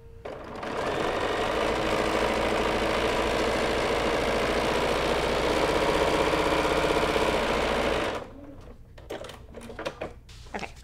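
A sewing machine stitches a seam along a marked line on a foundation paper-pieced house quilt block, running in one loud, continuous, steady whir for about seven seconds before stopping, followed by a few faint clicks and handling noises.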